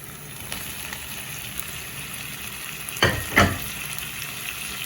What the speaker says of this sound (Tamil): இறாலை போட்டுட்டு அதையும் சேர்த்து கிளறுவோம்.